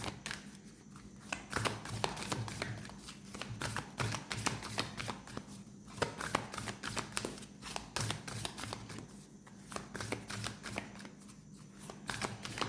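Gateway of Light Activation oracle card deck being shuffled, a steady run of dense, papery riffling and flicking bursts repeating close up without a break for the whole stretch.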